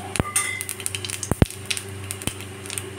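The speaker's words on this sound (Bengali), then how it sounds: "এবার কড়াইয়ের তেলে আমি অল্প করে কালো জিরে ফোড়নে দিলাম" Black cumin (nigella) seeds tempering in hot oil in a wok after fish has been fried in it, giving a steady close sizzle broken by a few sharp metallic clinks, with no voices.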